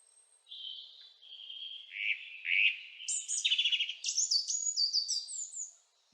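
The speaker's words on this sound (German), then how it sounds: "wie ein Vogel singt" A bird sings alone in a clear, high, varied song of trills and chirps, lasting several seconds with brief pauses.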